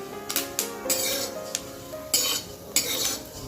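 Fenugreek seeds for methi pak roast in a hot kadai, giving scattered close crackles and pops over a soft sizzle, with repeated scraping strokes of a stirring spoon.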